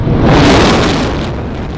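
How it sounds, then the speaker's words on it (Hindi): The Noida Twin Towers demolition explosion: a loud, deep roaring blast rumbles close by and slowly fades over about two seconds, broad and thunderous, with no voices. "ऐसा धमाका हुआ कि आसमान ढक गया।"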